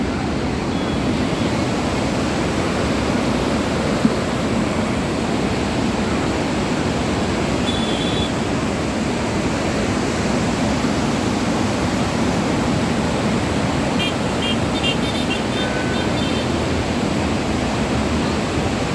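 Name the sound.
flooded Godavari river water rushing at Panchavati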